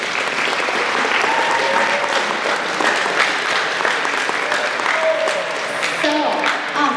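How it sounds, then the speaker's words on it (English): Warm audience applause at a dual credit student recognition ceremony, a full, steady wash of clapping lasting several seconds while a voice talks faintly underneath. "I would like to give her a warm round of applause for all her hard work"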